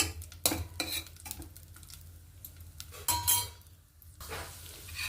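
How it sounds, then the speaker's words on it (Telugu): Ingredients for Ugadi festival prasadam fry in a pan toward light golden brown: intermittent spatula scrapes and metallic clinks against the pan over a soft sizzle, with a couple of louder stirring bursts. "మాడకుండా వేయించుకోండి లైట్ గోల్డెన్ బ్రౌన్ కలర్ వచ్చే వరకు వేయించుకుందాం"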